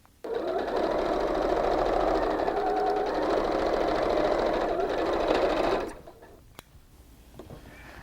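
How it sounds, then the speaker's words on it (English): A sewing machine runs steadily for about six seconds, stitching pieces of crazy quilt fabric together, then stops, leaving faint handling noises. "I'm going to take this piece and lay it over the other and bring my edges together, and I'm going to re-sew this."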